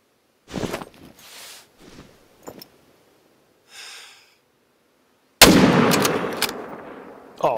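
Hunting rifle shot in The Hunter: Call of the Wild while hunting mule deer in Patagonia, a sharp loud blast followed by a decaying echo, preceded by several softer rustles and short bursts.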